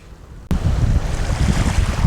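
Surf washing onto muddy Rutherford Beach in Louisiana at high tide, a steady broadband rush of breaking waves that starts abruptly and stays loud, mixed with wind buffeting the microphone.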